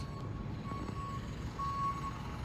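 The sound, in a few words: truck driving out of construction site, reversing beeps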